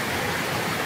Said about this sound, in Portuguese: Esse barulhinho é da cachoeira